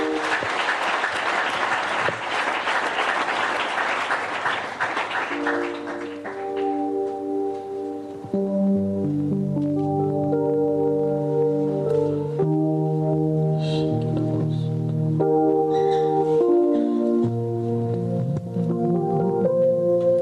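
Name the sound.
congregation applauding and acclaiming the Lord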